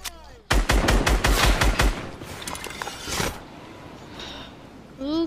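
Rapid gunfire in Fortnite, a dense burst of about a dozen sharp reports lasting over a second, followed by scattered shots and fading game noise.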